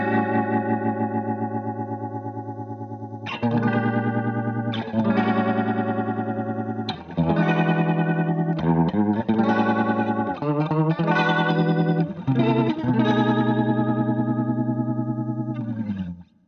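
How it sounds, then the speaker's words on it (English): Guitar chord through a Vox VT20+ combo amp with its rotary Leslie speaker emulation, a loud sustained chord with a swirling, pulsing modulation, restruck several times with no talk. "you'll hear an emulation of the Leslie speaker type ramping up"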